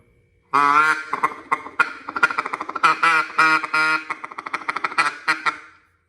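A handmade duck call with a freshly finished, cleaned and polished barrel is blown loudly, giving a long series of close, rhythmic quacks that speed into short choppy bursts before trailing off.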